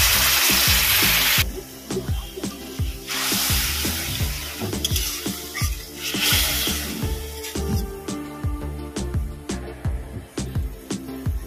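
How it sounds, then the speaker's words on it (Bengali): Water poured into a pan of sizzling fried spice paste for a Bengali boal fish curry, a bright splashing rush that gives way to loud hissing, bubbling and spoon scraping. "মশলাটা কষানো হয়ে গেছে, আমি জল দিয়ে দেবো।"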